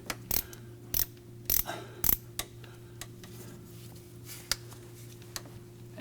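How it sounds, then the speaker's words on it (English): A ratchet clicks as it turns a socket on a diesel glow plug, with close, faint, irregular ticks and a few sharper clacks over a steady low hum, and no talking. "to get a little more leverage on this ratchet head, I'm going to pull this line back and go straight down and turn and push"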